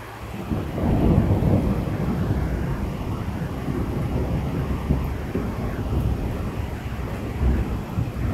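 Thunder rolling through a short storm heard outdoors while looking west, a long deep rumble swelling early then grumbling on steadily for several seconds with rain-like hiss underneath.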